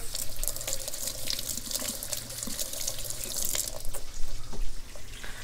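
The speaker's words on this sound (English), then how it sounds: "wash my hands real quick" Water streams steadily from a faucet with splashing as hands are rinsed beneath it, a continuous close rushing sound with no talking.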